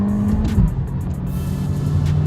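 A VW Virtus GT races past at speed in a drag race, its engine a loud, sustained roar with a sweeping pitch change as it passes close by.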